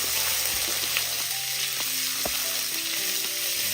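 Crushed ginger and garlic fry in a pan with a steady close sizzle, punctuated by intermittent scrapes and knocks of a stirring utensil.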